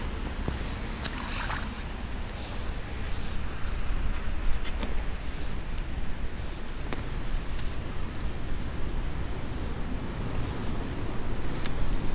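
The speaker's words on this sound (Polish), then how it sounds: "Ale wieje, masakra." Strong gusty wind buffets the microphone in a steady broadband roar outdoors during January winter spinning for chub and perch, continuous and loud throughout with a few faint clicks and no talk.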